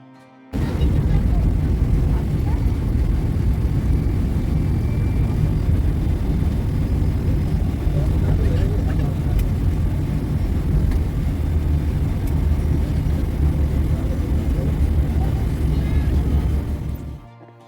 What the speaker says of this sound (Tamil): இன்னும் கொஞ்சம் நேரத்தில் கொழும்பில் போய் ஃப்ளைட் லேண்ட் ஆக போகுது.